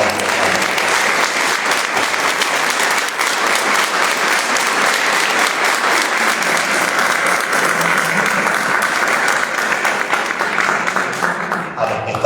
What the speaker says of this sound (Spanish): todos creo que nos merecemos un gran aplauso